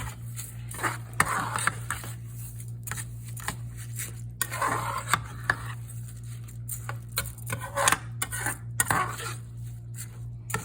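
A spoon stirs a rice mixture for arroz con gandules in a metal pot, giving irregular clinks and scrapes over a steady low hum, close and moderately loud, with no talking.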